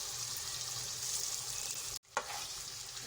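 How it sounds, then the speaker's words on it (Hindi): Meat fries with garlic-ginger paste and whole spices for Sindhi biryani, a steady close sizzle broken by one brief stir or drop in the middle before the sizzling resumes. "गोश्त डाल के हम भूनेंगे"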